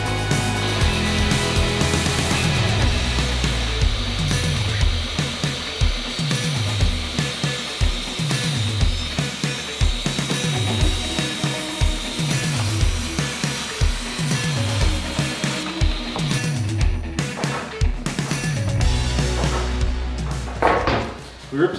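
A power saw rips lengthwise through plywood sheets in a garage gym, a loud continuous whine cut by repeated rhythmic dips as the blade works along the boards, ending with a few brief clatters.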